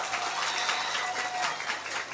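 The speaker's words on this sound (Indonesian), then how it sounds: "Tepuk tangan untuk santri semuanya." Applause from an audience cheering santri (Islamic boarding-school students) at a Nahdlatul Ulama gathering, a dense, steady wash of many hands clapping at once, fairly distant and continuous for about two seconds.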